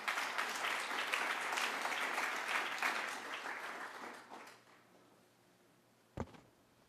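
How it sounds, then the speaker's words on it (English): Audience applause at an evening talk about the Chinese Exclusion Act files, a full round of clapping that tapers off over several seconds, followed by a single sharp knock. "Let's give them a round of applause"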